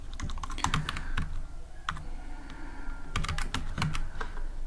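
Rapid clicking of keys on a computer keyboard, close by, in short irregular bursts with brief pauses between them.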